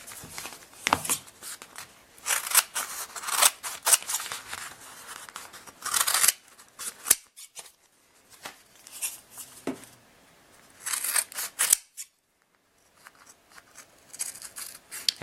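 Scissors cutting out a piece of fabric that still has paper backing attached, close-up snips and crisp rustling in irregular bursts with short pauses. No one speaks.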